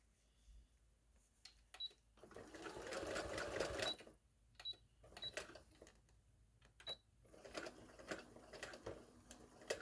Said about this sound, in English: I'm just going to do a regular straight stitch across it